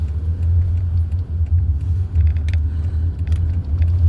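Interior road noise from a car being driven, a low steady rumble of engine and tires with faint rattles and clicks above it, continuous throughout.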